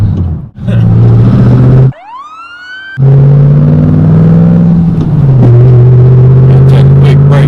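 A police car siren wails near a 650-horsepower Chevrolet Camaro SS street car, rising steeply in pitch for about a second amid a loud, steady engine rumble that continues before and after.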